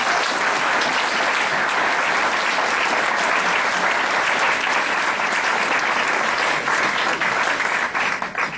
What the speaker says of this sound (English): So if everybody can join me and give it a big round of applause